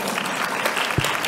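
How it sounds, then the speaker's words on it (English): An audience at a talk on refugee women living with HIV bursts into steady, dense applause, many hands clapping together and filling the room without a break. "I should hear some claps after that."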